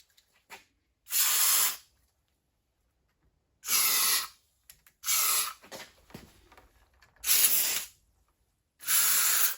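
Five sharp bursts of WD-40 aerosol contact cleaner hiss out in separate blasts on 1954 Kaiser Darrin parts, each lasting about a second, close and loud with quiet gaps between.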